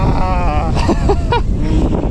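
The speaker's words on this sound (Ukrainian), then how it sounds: "Погода жахлива. Вітер дує" Strong wind buffets the microphone on an open riverside while anglers fish for asp, a steady low rumble under brief voices talking.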